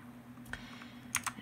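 Sparse keystrokes on a Motospeed CK-62 gaming keyboard with blue switches, a few clicky taps alone, including a quick double tap, over a faint steady hum.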